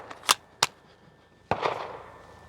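A Glock 45 pistol fires at steel plates, two sharp reports in quick succession, a pause, then a third shot with a ringing, decaying tail.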